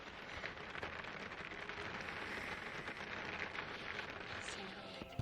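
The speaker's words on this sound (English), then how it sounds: "You gotta survive the rain." Steady rain falls at a campsite during a road trip, a dense, even patter on surfaces close by, continuous and moderately quiet with no clear talking over it.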